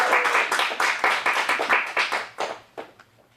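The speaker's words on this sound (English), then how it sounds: "Let's get a round of applause." Audience applause at an adult dramatic acting showcase: a dense burst of hand clapping that holds steady, then thins into scattered, fading claps.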